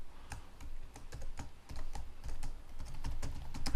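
Quick, close keystrokes on a computer keyboard clatter in irregular bursts with short pauses, with no voice.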